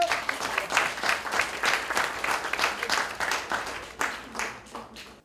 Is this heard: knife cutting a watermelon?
no